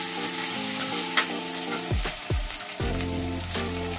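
Ground cumin paste hits hot oil for a rui fish curry with potato and tomato, giving a loud, continuous, close sizzle with light crackles under background music.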